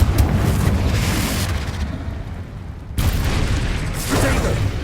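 A Confringo spell blast in Hogwarts Legacy on PS5 lands as booming, crackling explosive bursts, one opening the clip and another striking around the midpoint, loud and close with dense rumbling debris between.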